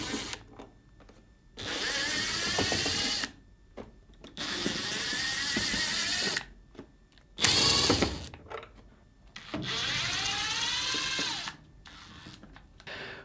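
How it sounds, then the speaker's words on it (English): A Phillips screwdriver backs six screws out of the back cover of a Samsung WA456DRHDWR/AA washing machine, giving repeated close ratcheting, grinding bursts of a few seconds each, separated by short quiet gaps. "Using a Phillips screwdriver, we'll start by removing the 6 Phillips screws."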